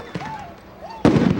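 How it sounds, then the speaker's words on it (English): Flashbangs and tear gas canisters fired in a volley at a street protest, a sharp loud burst of blasts arriving near the end after a quieter stretch with faint pops and whistling sounds. "Here come flashbangs and canisters coming right up at us."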